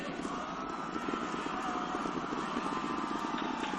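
Steady, distant roar of the New Glenn rocket engines about ninety seconds into its first launch, passing Mach 1, a continuous broadband rumble without breaks, heard faintly and alone.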